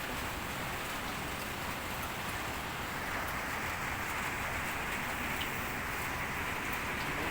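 Steady rain falls continuously during the rainy season, a soft, even hiss of drops with no breaks, fairly faint and heard alone without voices.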